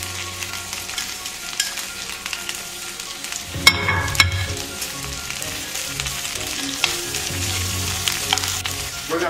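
Green onions frying in a pan for Jamaican curry chicken: a steady close sizzle with a louder crackle as food hits the hot pan and a few stirring scrapes, continuing evenly.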